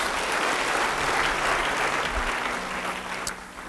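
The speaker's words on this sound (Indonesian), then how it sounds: "Beri tepuk tangan buat Roh Kudus." Congregation applause at a church sermon, a broad, even wash of clapping from a large crowd that holds steady before easing off near the end.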